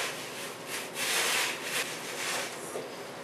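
Perlite refractory mix being stirred by hand for a coffee can forge, a gritty, scraping rub like wet sand, steady and close with a few louder surges, no voices.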